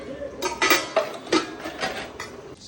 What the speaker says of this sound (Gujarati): ચલો તા ધોઈ નાખીએ વાસણ ધોઈ નાખીએ